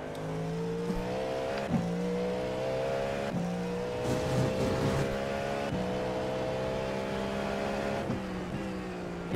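Race car engines in the iRacing sim, including GT3 cars, drone steadily at close range, with tonal revs rising and falling through gear changes and a few short bursts of extra roar.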